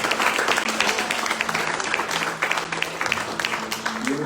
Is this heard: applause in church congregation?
yes